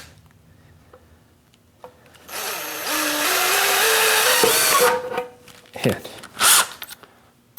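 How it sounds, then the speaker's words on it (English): A cordless drill bores a pilot hole through an aluminum panel, its motor whining steadily for about three seconds with a rising pitch. A few sharp clunks and rattles follow as the bit breaks through, with a brief spoken word. "I'm just going to grab a cordless drill and we're going to pop a hole in there"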